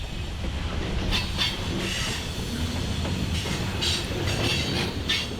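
A CSX freight train rolls past in Northeast Alabama, a steady broadband rumble with wheel clatter and bursts of high hiss and squeal recurring throughout, loud and continuous with no talk.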